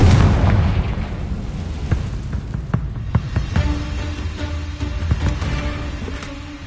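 A Confringo blasting spell in a wizard video game erupts in a loud, booming explosion, followed by a string of crackling pops and debris bursts that slowly fade.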